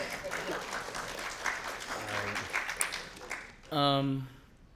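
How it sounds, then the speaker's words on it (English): Steady applause from a church congregation fills most of the moment, a dense even patter that fades as a voice starts speaking over its tail. "Y'all can clap for her."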